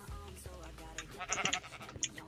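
Sheep bleating in a video game, a few short bleats with clicks and game effects around them during team play, over a low busy background.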